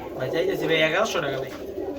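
A male black-necked pigeon cooing close by at a pigeon sale, low bubbling coos repeated over a couple of seconds while someone talks over them.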